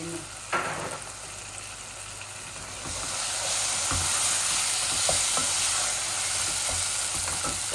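Chicken and tomato fry in a hot pan with a steady, broad sizzle that swells louder partway through, dotted with occasional scrapes and taps of stirring.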